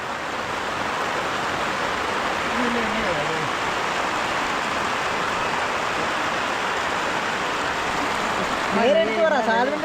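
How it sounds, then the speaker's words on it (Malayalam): A steady, loud downpour of heavy rain hisses without a break at Idukki Dam in Kerala, and a voice briefly cuts in near the end. "ഭയങ്കര മഴ"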